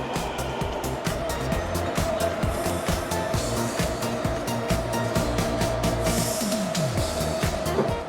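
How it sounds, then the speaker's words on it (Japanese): A Taipei MRT Wanda line train, a new driverless line, pulls into Dingpu station with a steady rumbling roar and a rising wheel whine that fills the platform, loud and continuous throughout. "さあ、私の乗る列車が入線してきました。"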